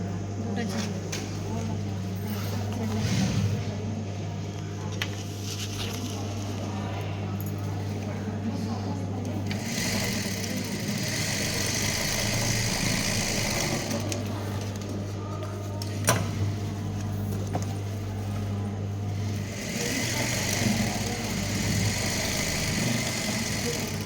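A sewing machine stitches a lunch bag, its motor giving a steady, close mechanical hum that runs in long stretches with a short pause partway through. Nobody talks.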